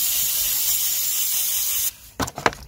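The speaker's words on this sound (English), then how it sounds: "We're just gonna give it a good clean with the EGR valve cleaner." Bolt-brand EGR valve cleaner sprayed onto a BMW EGR valve: a steady, loud, close aerosol hiss lasting about two seconds, then it stops and a few short clunks follow.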